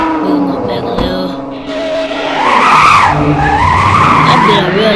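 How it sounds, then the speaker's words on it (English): A drift car in the video game Driving Empire slides with loud, wavering tire squeals over a revving engine, close and sustained, while a person talks over it. "That be a real drift car."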